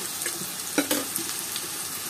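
Onion, ginger and garlic paste frying in a pot for plain pulao, giving a faint, steady sizzle with a few soft scrapes and knocks of stirring close by.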